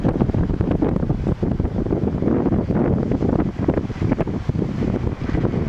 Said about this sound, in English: but this is way too much wind.